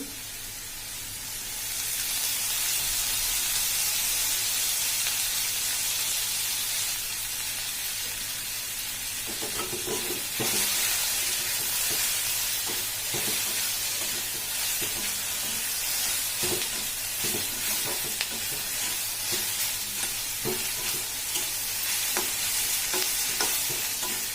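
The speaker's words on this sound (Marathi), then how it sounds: "कांदा ना थोडासा भाजलाय आता हे बघा आपण आता थोडंसं तेल टाकून घेऊ" Onions fry in oil in a pan with continuous stirring: a bright, steady sizzle swells up after a quiet start and carries on for the whole stretch, scattered with soft scrapes and taps from the spoon.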